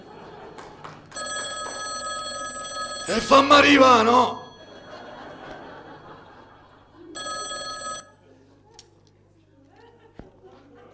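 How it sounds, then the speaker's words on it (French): A telephone rings loudly in bursts indoors, one long ring followed by a second after a pause, with people talking and laughing around it. "Je savais qu'elle allait sonner le téléphone."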